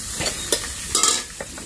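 Dried fish and onions sizzle in a pan under steady frying noise, with several scraping stirs of a spatula at irregular intervals, close and moderately loud.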